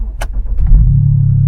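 BMW F10 engine with a freshly replaced battery cranks briefly and catches at once, a short click and whir giving way to a loud, steady low idle rumble, close by with no talk.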